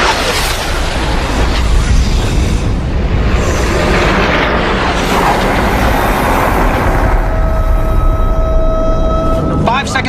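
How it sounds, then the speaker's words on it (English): Missiles detonating on impact in an action movie, a sustained roaring, rumbling blast wash that stays loud for several seconds with a tonal whine emerging near the end. "Send all missiles to detonate on impact."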